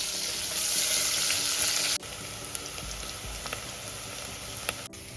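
Chopped onions crackle and sizzle in a pan as they fry until reddish-brown, the hiss dropping slightly after a clatter, with occasional sharp clicks of stirring.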